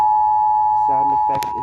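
A steady, pure electronic Emergency Alert System tone holds alone at first, then overlapping speech and a brief sharp noise come in over it near the end.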